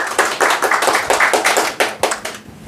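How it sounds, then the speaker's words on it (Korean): Audience applause welcoming a photographer onto the stage at a talk event, a dense burst of many hands clapping with uneven rhythmic peaks, close and loud, steady for a few seconds. "여러분 큰 박수로 맞이해 주십시오"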